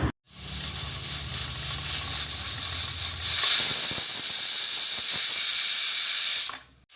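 A pressure cooker on the stove hisses steam steadily for several seconds while cooking a chicken curry, growing louder and brighter midway before cutting off abruptly near the end.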